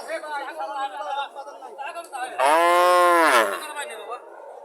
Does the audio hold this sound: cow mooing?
yes